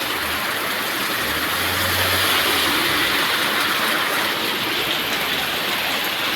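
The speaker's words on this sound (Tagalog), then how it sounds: "ang lakas po ng ulan. Bumubuhos po siya mga bis." Heavy rain pours down steadily and loudly with water gushing from a roof gutter, a dense continuous wash of splashing and dripping close by with no pauses.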